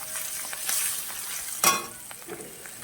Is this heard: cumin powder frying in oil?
yes